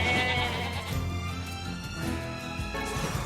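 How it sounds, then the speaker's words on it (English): Sheep bleat in the video game Nier Replicant, a game-world animal call set against layered background music that fills the whole stretch, the bleats blending into the steady, fairly quiet mix. "Sheep!"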